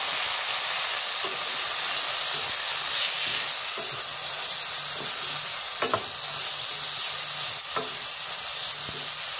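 Potatoes dropped into a frying pan of fried chilli, onion, garlic and dried fish, giving a loud, steady sizzle with faint stirring clicks.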